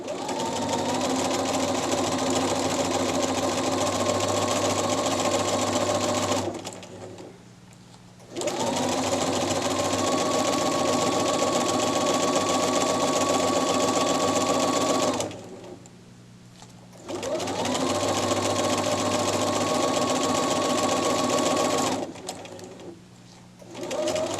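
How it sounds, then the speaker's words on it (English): A sewing machine runs in three long, steady bursts, stitching a seam at a half-inch line with back stitching and pivots at the corners. Brief pauses separate the runs, and no one speaks. "I can lower my presser foot, it's right on the 1/2 inch line, I can back stitch again, and then I can go forward"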